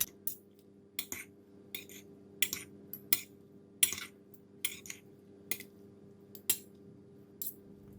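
Fried yee mee noodles with chilli bean paste and squeezed lime are tossed together, with utensils clinking and scraping irregularly against a plate or pan over a low steady hum. Nobody speaks.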